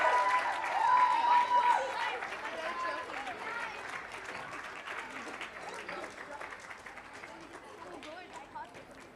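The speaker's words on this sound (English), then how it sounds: "Guys, huge round of applause." A crowd claps steadily for the second-place team at a literature festival reading challenge quiz finale, the applause moderately distant with chatter and a voice talking over it, fading gradually.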